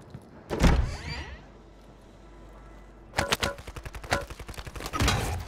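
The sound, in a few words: gunfire in the video game Call of Duty Warzone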